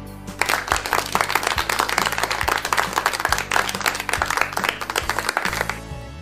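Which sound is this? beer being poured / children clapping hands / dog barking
children clapping hands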